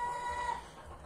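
A young hen, silvery-grey with yellow neck feathers, gives a brief nearby cluck.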